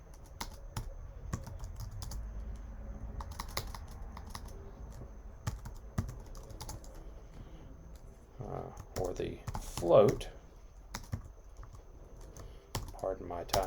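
Rapid keyboard typing clicks on a computer, steady and fairly quiet, running under a man's lecture-style speech in a quiet room.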